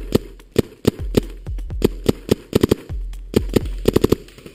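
Rapid paintball gun shots during an outdoor paintball game, sharp pops fired in quick irregular bursts, loud and close, about twenty in under five seconds.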